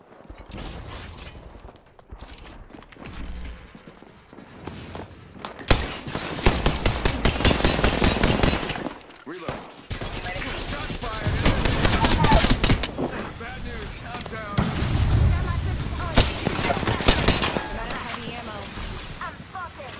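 Rapid shootout gunfire in a first-person shooter game, with bursts of shots over a busy, loud mix of game effects and movement, broken by a short lull midway, while a player talks over parts of it.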